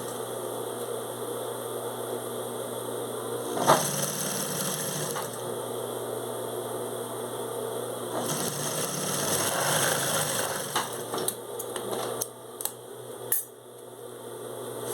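A sewing machine topstitches a seam on a shoulder bag, running in steady close whirring stretches with pauses and a few clicks and handling sounds between them.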